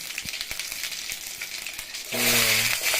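Mustard seeds and cumin sizzle in hot oil, a steady crackling fry with scattered pops, growing louder and denser near the end.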